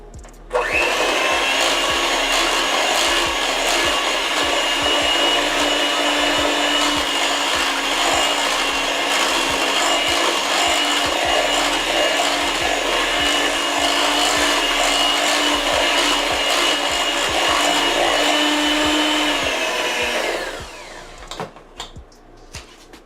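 An electric mixer whirs continuously while blending homemade velvet frosting, a loud, even buzzing drone that runs for about twenty seconds and then abruptly cuts off, leaving a few faint clicks.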